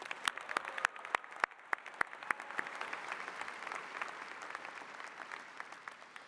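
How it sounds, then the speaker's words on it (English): Audience applause at a university engineering commencement ceremony, sharp individual claps standing out early before settling into a steady, dense wash of clapping that continues throughout. "Let's give Nick and Marie another round of applause."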